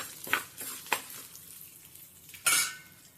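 Urad dal frying and being stirred in a pan, with a soft steady sizzle broken by several sharp metallic scrapes and clinks of the spoon against the pan, close by and moderately loud.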